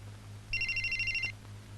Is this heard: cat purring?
no